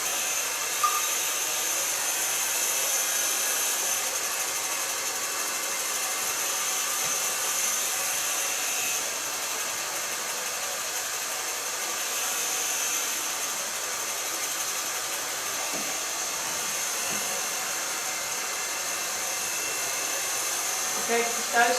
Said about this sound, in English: on a good blow dryer, it's always a button to make it cold.